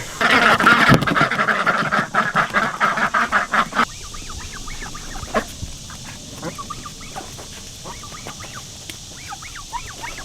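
Loud, raucous duck quacking in a dense burst at first, then thinning to scattered calls and rustling in an open field.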